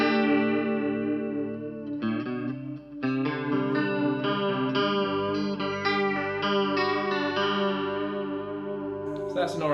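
Electric guitar chords ring through a Valeton Coral Mod chorus and detune pedal, loud and close, with a wavering, shimmering modulated tone sustaining across several strummed changes.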